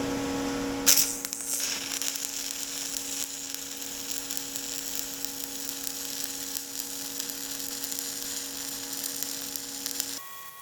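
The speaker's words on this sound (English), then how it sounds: "I'm going to lay down a fillet weld using the Miller XMT 350 with a stick welder" Stick welding a fillet weld with a Miller XMT 350 produces a steady crackling, buzzing hiss over a constant electrical hum, starting with a sharp strike and running evenly for about ten seconds before stopping.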